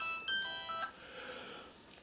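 A mobile phone ringtone sounds for an incoming call, a short electronic melodic tone pattern, close and fairly clear, fading out against a quiet room.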